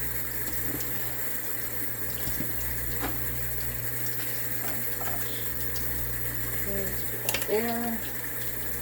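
Hot water runs steadily from a tap into a household sink as it is cleaned, a constant hiss and splash that lasts throughout, with a few brief clinks and squeaks near the end.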